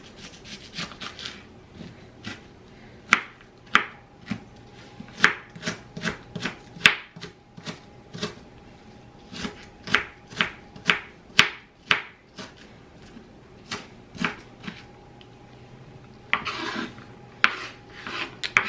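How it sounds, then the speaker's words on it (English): A knife chopping onion, carrots and celery on a board, with sharp, irregular cuts coming in quick clusters and pauses, close and crisp against a quiet background. "So I'm gonna just cut up an onion and some carrots, some celery"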